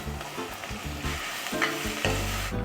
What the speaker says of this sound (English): saute your mushrooms and bok choy stems